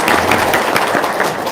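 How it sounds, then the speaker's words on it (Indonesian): Brief burst of audience applause, steady dense clapping throughout at moderate loudness with some crowd noise. "tepuk tangan dong"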